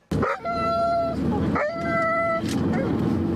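A frightened dog whines and howls in two long, high, wavering cries, close and loud, over steady background noise and voices during an evacuation from a shelled town.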